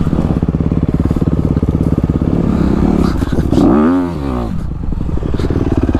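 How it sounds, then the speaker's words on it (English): A 2020 Honda CRF 250 RX dirt bike rides on trails, its engine droning loud and close throughout, with a rising rev near the middle and some clatter from the terrain. "Today I'm riding the 2020 Honda CRF 250 RX."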